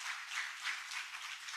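Applause from a church congregation giving praise to God during a service, a fairly soft, steady patter of many hands clapping at some distance with gentle swells, no voices on top.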